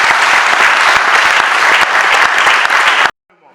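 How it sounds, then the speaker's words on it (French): Loud, sustained applause from guests at a wedding ceremony in a town hall, steady full clapping for about three seconds before it cuts off abruptly into near silence. "Et on applaudit très fort pour papa."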